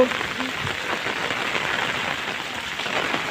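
Steady rain hisses across a surface in Dhobiana Nagar, Bathinda, a continuous broadband patter with scattered drops, constant and fairly close, with faint voices underneath.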